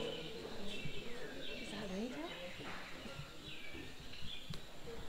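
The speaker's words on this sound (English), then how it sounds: "You can just hear the birds" Birds at an Amazon jungle lodge in Peru call and chirp in repeated sweeping phrases, moderately close, over a humming background with people talking faintly.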